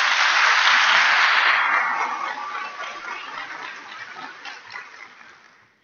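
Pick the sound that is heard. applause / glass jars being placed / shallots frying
applause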